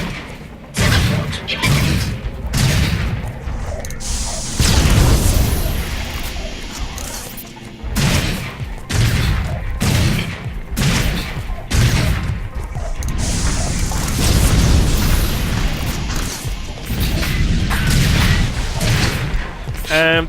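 Gatling and lightning defense towers firing in the tower-defense shooter Sanctum, a dense run of rapid cracks, crashes and booms that keeps going under steady talking.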